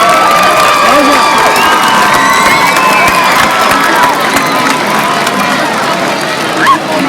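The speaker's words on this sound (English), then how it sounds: "So everyone here, give yourselves a big round of applause." A school crowd at a community project kickoff event cheers and shouts in a dense, continuous roar lasting the whole stretch, loud and close, with scattered clapping and children's voices mixed in.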